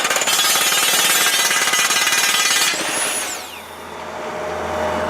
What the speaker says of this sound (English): just a 4-meter-long drill that's chewing through replacement bits